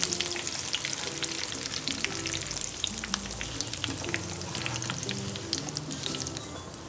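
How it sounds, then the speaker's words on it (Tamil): Curry leaves frying in hot oil for a South Indian mixture snack, a steady close crackling sizzle with sharp pops scattered throughout, without any talk. "கருவேப்பிலை பொரிச்சுக்கலாம்."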